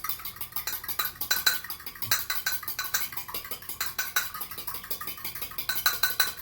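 Dough for two-ingredient rolls is mixed in a bowl, a utensil clinking and scraping against the bowl in a quick, steady rhythm, close and fairly loud, with no talk.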